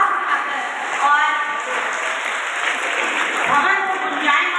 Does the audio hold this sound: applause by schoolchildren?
yes